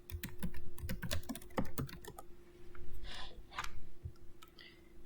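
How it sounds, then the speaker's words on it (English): Quick bursts of clicks from a computer keyboard, close and fairly quiet, come in a rapid run at first and then as a few scattered taps over a steady low hum. "I'm going to type in Circle Outline."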